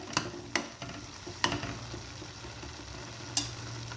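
Chana masala with salt is stirred in a pan over a steady, low sizzle. A spoon gives several sharp, irregular scraping taps against the pan, close and moderately quiet, with no talking.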